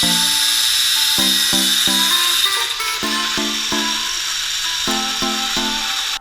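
A power tool cuts through a flat metal mounting bracket during a fire extinguisher install in a Mazda RX-8, a loud continuous whine with repeated short bites and shifts in pitch as it works through the metal.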